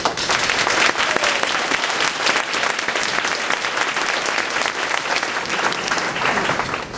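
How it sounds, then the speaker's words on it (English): A large audience claps steadily and loudly throughout, a dense, sustained wash of applause without a break. "I'd like to just give the staff and Ashley a round of applause because we love you."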